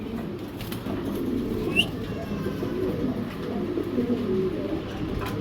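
Pigeons coo softly at moderate distance, low throaty calls recurring over a steady background hum, with a brief flutter partway through.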